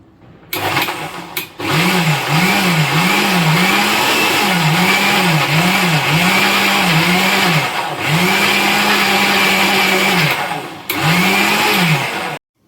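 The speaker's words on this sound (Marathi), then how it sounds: "चिमूटभर मीठ हे टाकून मिक्सरला फिरून घेते आहे" An electric mixer grinder blending lassi whirs loudly nearby, pulsing in repeated short bursts of rising and falling motor pitch, switched on and off several times.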